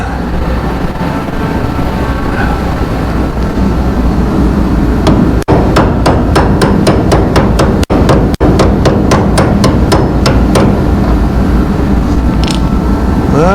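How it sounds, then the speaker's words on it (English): A hammer taps push nuts onto a BUTCHER DART front clip, a quick run of sharp metallic knocks over a loud, steady background roar. "And apparently a hammer."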